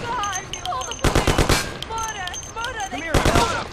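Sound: gunfire from the video game Mafia

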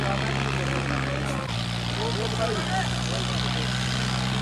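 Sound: Sonalika 745 tractor engine running in a tractor competition

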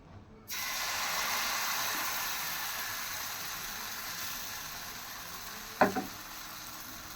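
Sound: flour batter frying in hot oil on a tawa

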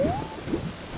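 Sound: rain in the video game Ocarina of Time

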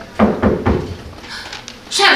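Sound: knocking on window and door, played on percussion

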